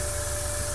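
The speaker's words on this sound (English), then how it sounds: "I'm constantly moving the model and spraying in different areas." An airbrush sprays primer onto a plastic miniature model, a steady close hiss of constant volume and no talk.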